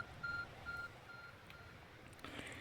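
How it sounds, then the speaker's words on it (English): A few short electronic beeps from the Arc Phone in Pokémon Legends: Arceus repeat in a quick pattern, then a brighter chime, set over a low, murmuring game background. "Your arc phone is beeping."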